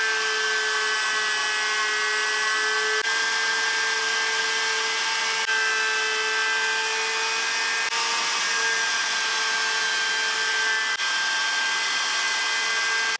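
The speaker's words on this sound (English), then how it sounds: "I'm going to use a round over bit to clean up the edges and just kind of round them over." A router with a round-over bit whines at a high, steady pitch as it cuts along the edges of a wooden charcuterie board, running continuously with only slight dips in tone.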